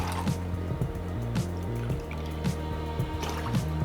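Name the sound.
pouring bitters, lemon juice, Cointreau and shochu into a shaker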